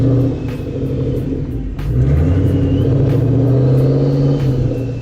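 A car engine runs loud and close, a steady low rumble that rises in pitch as it revs up through the second half, with no talking over it.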